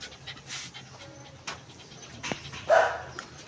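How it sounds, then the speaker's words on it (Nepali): Two dogs at a rural Nepali home give soft, steady panting, with a brief sharper yelp or bark near the end; faint, with no talk. "म चाहिँ कुकुर देखाउँदै छु। दुईटा कुकुर यहाँ छन्।"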